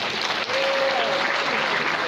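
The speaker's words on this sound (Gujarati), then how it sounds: "તાળીઓ પડવી જોઈએ" Audience applause at a school prize distribution for an inter-school one-act drama competition fills the hall as steady, dense clapping from a crowd, continuous and fairly loud, with a brief voice over it.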